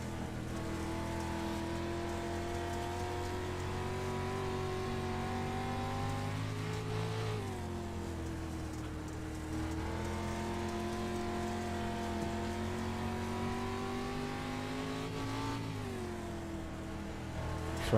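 From inside a Midwest Dirt Racing Series street stock car on a dirt track, the engine drones loud and constant, and its pitch sweeps down and back up through corners as debris patters against the car.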